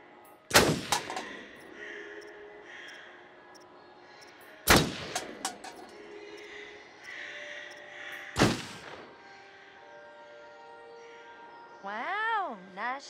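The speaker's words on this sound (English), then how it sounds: "You have to shoot the stuff that they want you to shoot." Gunshots in the video game Until Dawn: three loud, sharp blasts several seconds apart, each with a ringing tail and quick clattering after it, then a wavering warbling tone near the end.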